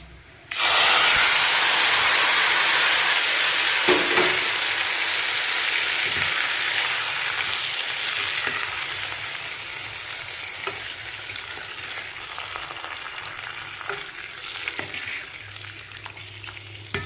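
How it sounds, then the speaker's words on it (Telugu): Hot tempering poured into an amaranth-leaf and dried-prawn tamarind curry, bursting into a loud, sudden sizzle that slowly fades to a softer hiss with occasional stirring clinks. "తాలింపు ఇందులో వేసేద్దామండి కూరలోని"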